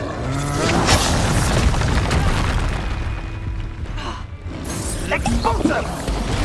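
A magical Expulso blast spell going off in the video game Hogwarts Legacy, a heavy booming burst with rumbling debris and combat effects, followed by further impacts and voices shouting.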